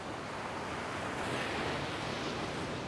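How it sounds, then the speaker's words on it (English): Steady broadband roar of ocean waves crashing over rocks along a coastline near waterfalls, continuous and fairly loud with wind noise, no voices. "with the waves crashing like they are now"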